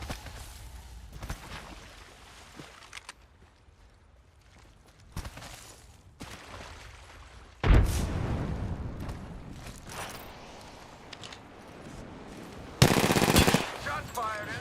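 Bursts of video game gunfire, scattered shots and rapid machine-gun-like volleys with louder bangs, mixed with game noise and intermittent quiet talk during a battle-royale style match.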